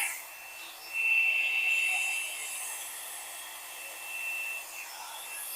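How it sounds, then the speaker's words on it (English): A hair dryer on its high setting blows a steady, loud airy whoosh that swells slightly and then settles, with no talking over it. "dryer on high"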